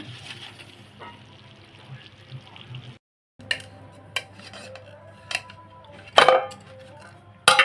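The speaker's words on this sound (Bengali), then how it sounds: "মাছটা আমার এক পিঠ হয়ে গেছে এবার আমি উল্টে দেবো" Fish paturi wrapped in banana leaf is turned over in a pan, heard as sparse clinks and scrapes of utensil on metal, a brief silence, then a louder clattering clunk near the end, all close and without talk.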